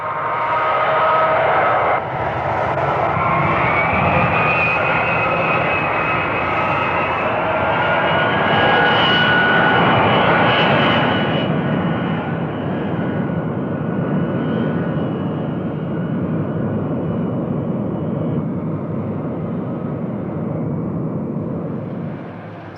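A standard jet trainer flies past with a loud, sustained engine roar and shifting whine, holding steady for a long stretch before slowly fading as it moves away.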